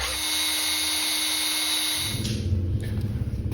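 A power drill whines steadily, then bites into iron on a Craftsman 109 lathe with a rougher, grinding chatter toward the end; close and loud, no voices.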